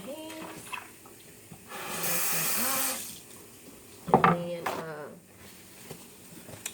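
Tap water runs over hands at a sink in a short, steady gush lasting about a second, followed by splashing, while a person talks before and after it.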